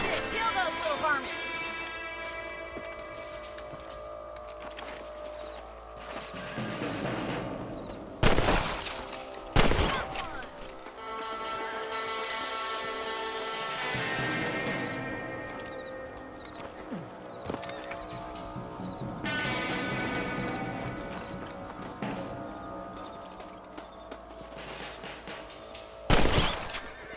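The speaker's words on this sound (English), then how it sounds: "Better at shooting rabbits than outlaws, I see." Gunshots ring out at rabbits in the Old West game Red Dead Redemption, a few loud, sharp cracks spaced apart. They sit under ongoing dialogue and background game sound.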